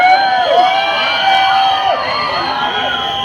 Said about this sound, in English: Let's make some noise for her.